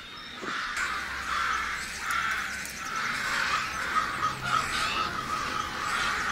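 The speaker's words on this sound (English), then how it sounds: "Is there like a crow fighting arena outside?" Crows cawing outdoors, a steady chorus of many harsh repeated caws and squawks overlapping one another at moderate volume, with no talking.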